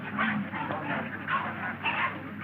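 A dog in a 1933 murder-mystery film whimpers and gives soft yelping barks in a short run of repeated cries, muffled and fairly close with a narrow old-recording tone.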